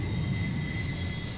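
A starfighter engine in the Star Wars Battlefront II video game gives a steady, loud jet-like roar with a sustained whine on top, continuous and unbroken.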